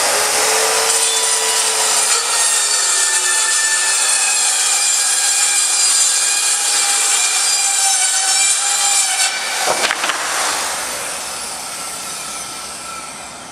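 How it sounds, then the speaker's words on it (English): A Skil circular saw cuts steadily through wood, a loud continuous whine with harmonic tones that holds for about nine seconds, then a brief burst as the blade finishes the cut and the motor winds down. "just run the saw into the material a couple of mil just to check that you've got the right size"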